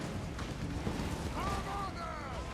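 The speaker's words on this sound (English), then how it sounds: "Lots of satchel charges going off." Satchel charges going off amid a large Total War: Warhammer 2 battle, a dense continuous rumble of blasts and fire with whistling tones rising over the din, loud and unbroken throughout.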